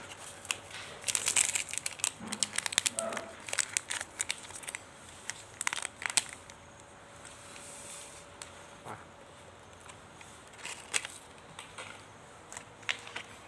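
A collagen powder sachet is torn open by hand, giving a run of sharp, close crinkling and ripping sounds in the first half. Quieter rustling follows in the second half, and no one speaks.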